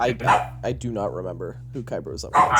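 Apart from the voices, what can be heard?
dogs barking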